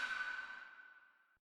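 A single percussion sample, or perc, from an R&B type beat built in FL Studio: one bright, ringing hit with a clear tonal center that decays smoothly over about a second and a half. It plays alone, close and moderately quiet.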